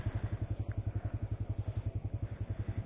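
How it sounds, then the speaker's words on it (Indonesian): Honda Legenda motorcycle engine running just after starting, a steady rapid low thumping pulse held close and continuous throughout, with no voices. "Starter aja udah jalan sih."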